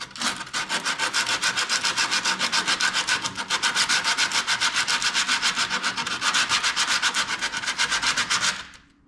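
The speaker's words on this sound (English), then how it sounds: "let's try with sandpaper and see how we go" Sandpaper scrubbed by hand over surface rust in a car's engine bay, a steady close rasping in quick regular back-and-forth strokes that runs continuously, then stops abruptly near the end.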